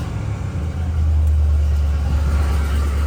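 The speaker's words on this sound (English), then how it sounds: "Love the sound of a V8 in the morning." A 1973 Oldsmobile Cutlass S V8 with aftermarket dual exhausts idles fast on a cold morning, a loud, steady, low rumble heard up close and alone.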